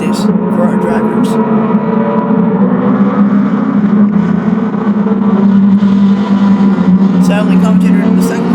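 Gr.3 race cars lapping Daytona during an endurance practice session in Gran Turismo, with a continuous loud engine drone and shifting revs under a commentator talking throughout.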